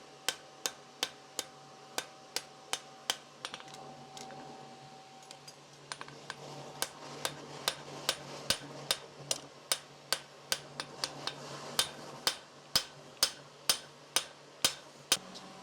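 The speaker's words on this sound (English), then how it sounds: "Do a touch of hammer boxing." Sharp ringing metal strikes of a hammer shaping a horseshoe from pattern bar on an anvil, struck in a steady rhythm, some blows louder than others, with a faint hum behind.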